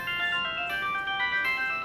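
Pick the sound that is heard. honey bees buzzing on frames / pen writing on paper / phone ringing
phone ringing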